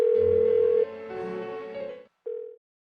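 A phone in Persona 4 Golden rings unanswered, giving a few short electronic ringing tones that stop, then one brief final tone, with no talk.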